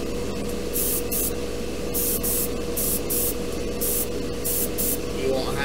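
Short hissing bursts of acrylic spray paint on a model kit hull, repeated in an uneven rhythm of about eight puffs over a steady background hum, close to the microphone.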